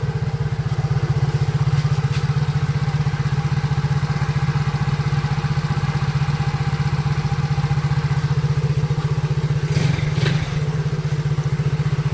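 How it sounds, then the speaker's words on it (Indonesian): A Yamaha Soul GT scooter engine runs steadily after a kick start, a close, continuous low putter with a faint mechanical clatter and no talking over it. "kita tes pakai starter kaki apakah motornya mau hidup apa tidak"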